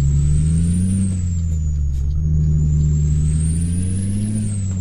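Kenworth W900B truck in the Euro Truck Simulator 2 video game: a loud, deep, steady diesel engine drone with slight rises and falls in pitch, continuous and close, with no talking.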